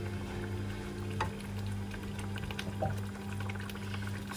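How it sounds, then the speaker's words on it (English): Tamarind water poured into a pot of cooking sambal, a soft continuous splashing and bubbling against a steady low hum, with a couple of faint clicks. "So I add in some tamarind water over here."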